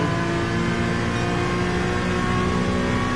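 Honda NSX engine in the Gran Turismo 7 video game, a loud, sustained high rev with a steady mechanical drone and whine held throughout, close and without talk.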